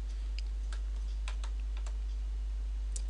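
Sparse, faint clicks of a few keystrokes on a computer keyboard, spaced irregularly against a quiet background with a steady low hum.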